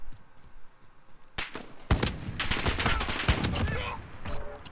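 Barrett .50 cal sniper rifle fired in Call of Duty Modern Warfare, a few heavy booming shots with dense in-game gunfire and explosions around them, loud and continuous through the second half.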